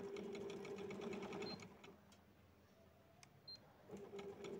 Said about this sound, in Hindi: किनारों को थोड़ा थोड़ा मोड़ के सिलाई लगा रही हूँ